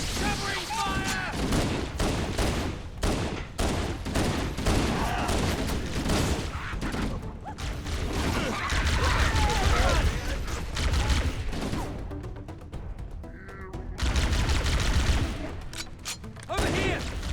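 Gunfire in Halo: Combat Evolved during a fight against a boarding party, with dense bursts of shots, booms and battle effects rattling continuously under shouted in-game voices.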